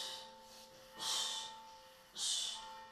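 Two forceful breaths pushed out during abdominal crunches, each a loud, airy exhale about a second apart, heard close with no talking.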